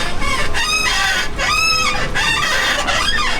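Repeated high, squeaky creaks come in a steady rhythm from a Tesla Model 3/Y's suspension squeaking as it bounces, loud and near.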